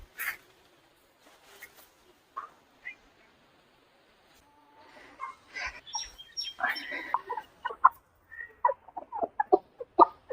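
Peruvedai country chickens cluck and chatter close by on a poultry farm, starting sparse and quiet, then growing into a busy run of short clucks and calls in the second half.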